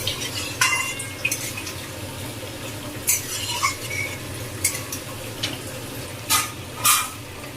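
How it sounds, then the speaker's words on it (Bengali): Soybean chunks stir-fried in a pan, with a low steady sizzle under scattered scraping and clattering strokes of a spoon against the pan, loud and close, with no talking. "এবার সয়াবিনটা দিয়ে খুব ভালো করে কষাতে হবে।"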